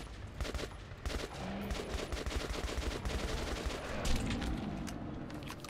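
Player's gun firing in Metro 2033 Redux, long runs of rapid automatic shots in quick repeated bursts, close and fairly loud, with no talk.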